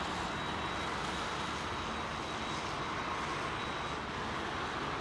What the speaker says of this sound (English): That's Air Canada's 777 firing up round the corner there as well